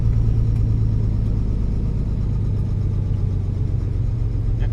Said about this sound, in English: I turned the sound up on the truck.